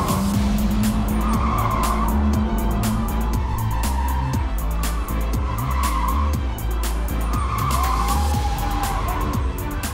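Race cars skid around a track with steady engine roar and repeated tire squeals swelling and fading over about ten seconds, loud and continuous with no talk.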